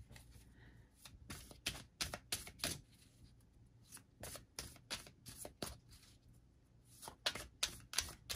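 Tarot cards being shuffled by hand, with quick riffling bursts and soft flicks in uneven clusters, close and quiet with brief pauses between.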